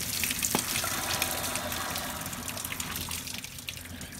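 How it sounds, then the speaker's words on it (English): Hot pasta water pours out steadily into a kitchen sink, a loud continuous gushing and splashing rush with no voices over it. "We gotta drain this pasta water."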